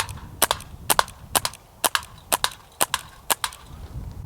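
A Walther CP88 Comp air pistol fires eight sharp, evenly spaced shots at a can, each crack ending in a metallic ping, close and crisp at roughly half-second intervals with no talk.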